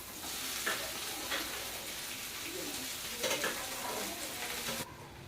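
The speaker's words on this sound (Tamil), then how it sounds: "வெண்டைக்காயை போட்டாச்சு. அப்படியே வதக்கி விடுவோம்." Sliced okra stir-fried in a pan with onion and popped mustard seeds: a steady, close sizzle with occasional scraping stirs, continuous for several seconds before dropping away at the end, with no talking.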